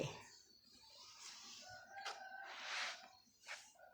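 Chickens on a rural Thai homestead cluck in soft, scattered bursts and a rooster crows faintly in the background, several short calls spread over a few quiet seconds.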